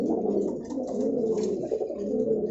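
Lalchila fancy pigeons with feathered feet, a male among them, coo steadily in a low continuous murmur at a pigeon seller's in Dhaka, close and without talk.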